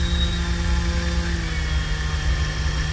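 A model engine spins a 3D printed Hamilton Standard 11x6 propeller at quarter throttle on a thrust test, giving a steady, loud, close drone with a constant pitched whine and no speech.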